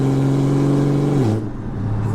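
A modified BMW car accelerates hard under full throttle, its loud, steady engine drone holding close and then dropping away sharply as the throttle eases, with no talking.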